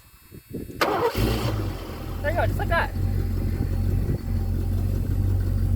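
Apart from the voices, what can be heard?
car engine starting and idling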